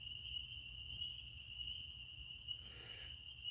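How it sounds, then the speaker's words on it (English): Spring peepers and frogs calling at night, a steady high-pitched shrill chorus droning continuously and evenly at a distance, with no voices. "listen to the frogs. Listen to the peepers."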